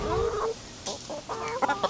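Chickens cluck close by in short, repeated bursts while pecking at a carabao mango, several birds trading soft calls.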